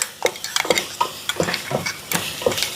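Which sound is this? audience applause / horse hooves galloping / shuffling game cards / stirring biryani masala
stirring biryani masala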